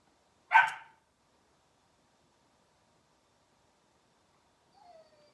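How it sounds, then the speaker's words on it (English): A dog barks once, loud and close, during an indoor BBQ rub and knife unboxing. Silence follows, and a faint whine or squeak comes near the end. "Sorry, dog again."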